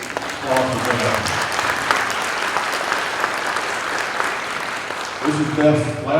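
An audience claps for a colleague at a corporate opening session, steady applause filling the middle of the clip, with someone speaking briefly before it starts and again as it fades.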